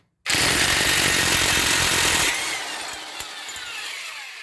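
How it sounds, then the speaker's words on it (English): A breaker bar and socket on a Ford Edge hub nut during a wheel bearing job, heard as a loud, close burst of harsh grinding and rattling for about two seconds that drops into a quieter ringing tail and a few faint clicks. "Then you can get your breaker bar with your socket and twist it off that way"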